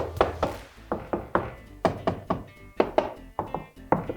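A series of hollow knocks on a converted school bus's front door, about a dozen solid thunks in loose groups of two or three, close and fairly loud with no talking.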